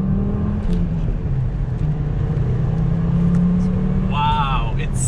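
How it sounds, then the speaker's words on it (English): A Volvo S60R, recently jump-started after coming from an auction wreck, drives with a steady low engine drone and a slight rise in revs, fairly loud and continuous, with a brief whining tone near the end. "The car runs perfectly."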